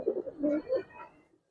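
A female Giribaz pigeon gives a few soft, throaty coos in quick succession, close by, followed by a brief pause and a small knock at the end.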